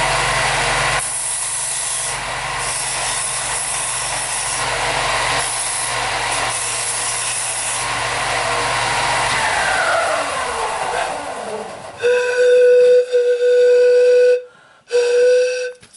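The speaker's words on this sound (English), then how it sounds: "I'm going to take some of this off with a belt sander, just a little, to smooth it off" A belt sander smooths a Japanese knotweed pan pipe, running as a steady, loud rushing abrasive whir for about ten seconds before winding down. Near the end, tonal whistle-like notes sound, broken by a short silence.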